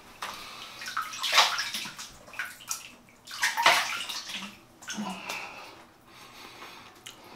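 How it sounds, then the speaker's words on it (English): A shaving brush is rinsed under a running tap, with two strong gushes of splashing water among quieter trickling and some nearby breathing. "As the brush cleaned out, right, quick rinse."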